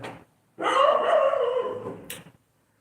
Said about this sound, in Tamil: நாய்க்கு சாப்பாடு போட மறந்துட்டேன் கத்துது